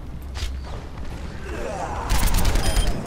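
Rapid bursts of gunfire from the Overwatch game, in its Junkenstein's Revenge event, building into a denser, louder volley near the end over a steady game background.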